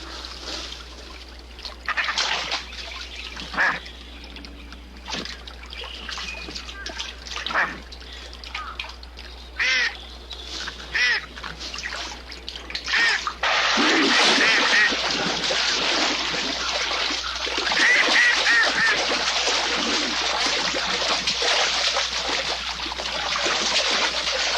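A duck being hunted by a bobcat outdoors gives scattered quacks and calls early on, followed by a loud sustained splashing and thrashing of water through the second half.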